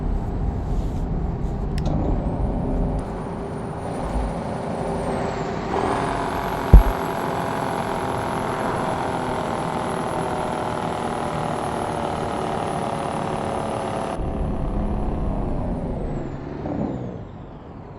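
A Mack R truck in American Truck Simulator brakes to a stop, its engine drone steady and close with a sharp air-brake hiss partway through before the rumble fades.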